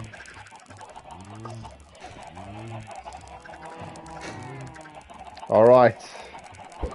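Chickens in the video game Minecraft give several short, repeated clucks in a rhythmic series. A brief, louder blip sounds near the end, and a voice speaks briefly over the game audio.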